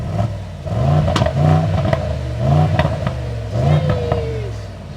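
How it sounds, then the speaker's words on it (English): Car engine revved in repeated bursts, four or five loud rising roars with brief drops back toward idle between them, close by and without talk. "You rev the car for us?"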